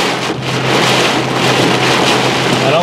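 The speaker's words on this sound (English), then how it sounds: "There's some hail hitting the window there." Hail and rain batter a car window during a tornado-warned Ohio storm, a loud, dense, unbroken hiss of impacts mixed with gusting wind close around the vehicle.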